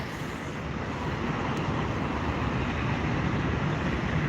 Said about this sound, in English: Here we have a JSX Embraer 145 coming from Las Vegas